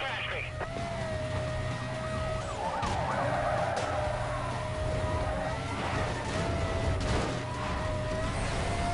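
Police car sirens wail during a chase in the racing game Need for Speed: Most Wanted (2005), the steady rising and falling tones running under engine roar and game music while someone comments in Polish throughout.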